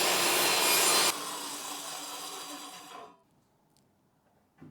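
A saw cuts plywood boards for a SawStop workbench frame, a loud, close rasping cut that drops in level partway through and then stops, leaving near silence with a faint knock at the end.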